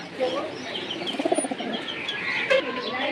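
Pigeons at a Bengali pigeon seller's loft, chila and silver-necked breeds, giving soft low cooing with a quick burst of pulsed coos and scattered chirps over background chatter.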